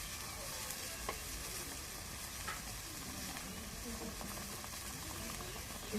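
Salt with cumin, garlic and garam masala pastes frying in a pan, a steady close sizzle with soft stirring scrapes running evenly throughout, no talking.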